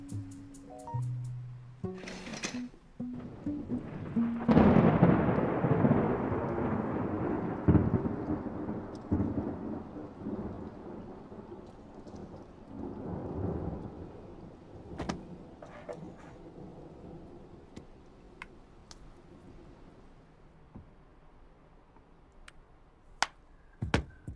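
A thunderstorm at night rumbles with a long, deep roll of thunder that swells and slowly fades under steady rain, followed by scattered sharp crackles and drips, heard from indoors at moderate loudness.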